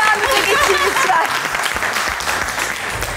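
Studio audience applauding on a Turkish cooking competition show as contestants walk over to their kitchen counters; steady, dense clapping fills the whole stretch, with a voice speaking over it.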